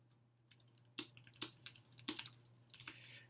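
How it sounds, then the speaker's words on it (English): Quiet taps of typing text into a Notability note, irregular bursts of soft clicks with a few sharper strokes, close and faint over a low steady hum. "we can start typing"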